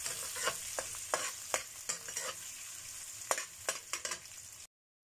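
Green chilies fry in a pan with a constant close-up sizzle, broken by a series of sharp scraping stirs from a utensil at irregular intervals, then a sudden cut to silence at the end.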